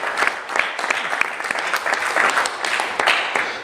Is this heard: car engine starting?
no